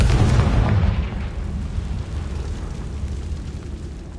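Confringo fire spell cast in the Hogwarts Legacy game, a loud booming blast at the start that decays into a rumbling, crackling roar fading over several seconds.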